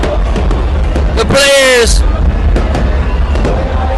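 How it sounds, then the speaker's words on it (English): Fireworks go off at a football stadium as a crowd celebrates a team qualifying for the World Cup, with a bright crackling whistle burst in the middle under loud crowd noise while a commentator keeps talking. "Fireworks."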